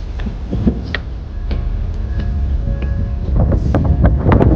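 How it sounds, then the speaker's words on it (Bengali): Strong wind buffets the microphone at the front deck of a night passenger launch between Dhaka and Chandpur, a loud continuous rumble with scattered clicks and knocks and no voices. "অনেক বাতাস এই অনেক অনেক বেশি বাতাস"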